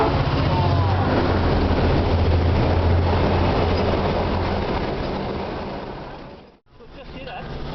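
A train rumbles past steadily, loud and close, with a low engine drone and rolling wagon noise that briefly cuts out near the end.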